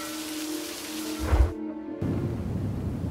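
Steady rain falls in the video game Nevertales, a constant hiss with a brief low rumble of thunder partway through.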